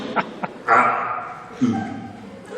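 A storyteller at a St. Louis storytelling festival mimics a dog with his voice, giving a couple of short yips followed by two longer, drawn-out barking woofs, close and loud.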